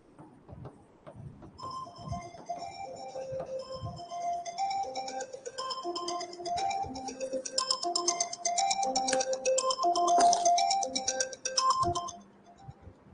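A phone rings with an incoming call during a law lecture, its tinkling melodic ringtone playing loud and steady for about ten seconds, with faint clicks and room noise underneath before it cuts off.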